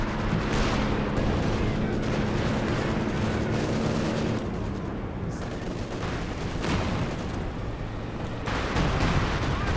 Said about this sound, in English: big artillery strike